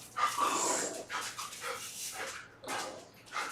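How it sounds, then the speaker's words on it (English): Excited dogs bark, whine and whimper in uneven bursts, fairly close, with soft panting between outbursts in an indoor room. "we have very excited dogs"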